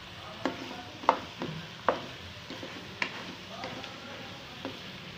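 A spoon stirs green chili paste into chicken karahi in a pan, making scattered clinks and scrapes against the metal over a soft sizzle, with a voice speaking quietly at times.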